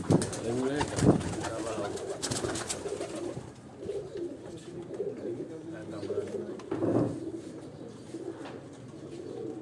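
Breeder pigeons on a rooftop loft coo in low, rolling murmurs, several birds close by with repeated throaty calls, while someone talks over them.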